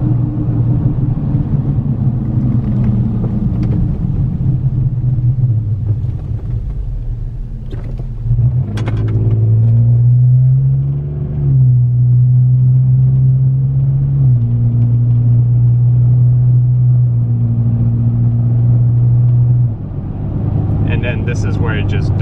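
Engine of a lifted Nissan Frontier droning inside the cab, rising and shifting in pitch as it pulls through gears and then sagging as power fades, with a person talking over the steady rumble.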